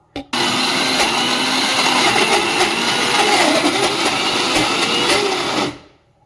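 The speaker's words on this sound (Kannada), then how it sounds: "ಎಲ್ಲ ಫುಲ್ ರುಬ್ಬಿ ನಾನು ಮಿಕ್ಸಿಯಲ್ಲಿ ರುಬ್ಬಿಟ್ಟು" A mixer grinder grinds soaked rice into paddu batter, whirring loudly and continuously for several seconds after a short click, then winds down and stops.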